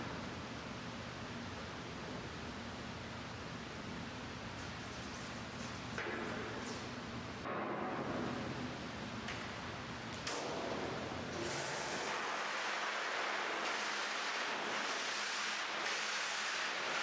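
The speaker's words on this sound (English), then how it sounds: "Use the power washer to rinse the frame and the block out off the sides." A power washer rinses ink off a screen-printing frame with a steady, loud hissing spray that shifts in tone as the jet moves across the surface.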